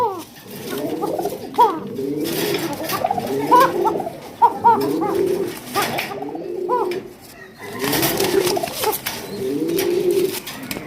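Several pigeons coo repeatedly at a pigeon farm, rolling bubbling calls overlapping in close, irregular bursts across the whole stretch.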